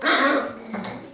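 Four-week-old Berger Blanc Suisse puppies yapping and whimpering up close, a short burst of high-pitched barks fading into softer whines.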